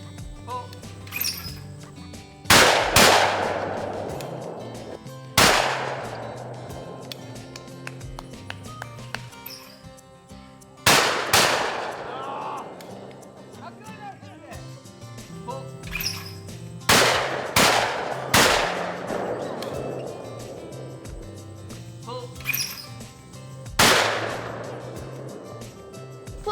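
Shotgun shots at clay targets at a Wisconsin clay shoot, about seven sharp blasts spaced several seconds apart, each ringing out with a decaying tail, with faint talk between shots.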